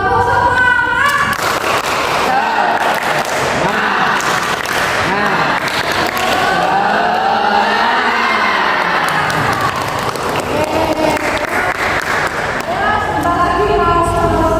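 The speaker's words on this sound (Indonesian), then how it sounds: "Tepuk semangat." A class of students claps a rhythmic spirit clap, the tepuk semangat, in a classroom, with loud sustained clapping and voices mixed with crowd noise throughout.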